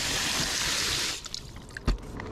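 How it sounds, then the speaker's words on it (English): Water is poured steadily into a homemade large gardening container made from a contractor bag, a loud rushing splash for about a second that then drops to faint trickles and a single drip or bump. "I'm going to put some water in here and just show you that this is watertight"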